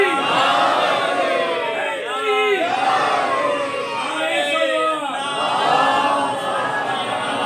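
A large gathering at a religious majlis chants back in unison in response to a Naara-e-Haidari call, with several loud, rising collective shouts in quick succession.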